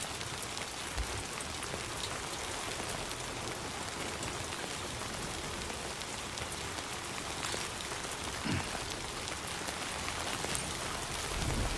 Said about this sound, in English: I don't think this rain's gonna stop.